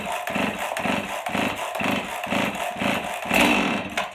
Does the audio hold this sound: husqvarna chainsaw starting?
yes